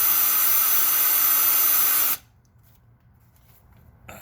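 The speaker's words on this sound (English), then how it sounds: "Center punched it, center drilled it, now I'm drilling it" A steady high-pitched whine of a drill boring out a broken stud on a 2003 Toyota Tundra 4.7 V8 engine, running continuously for about two seconds and then stopping abruptly into quiet.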